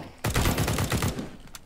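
A quick, evenly spaced string of about eight gunshots rips out in CS:GO, a loud close automatic burst followed by a couple of fainter trailing shots.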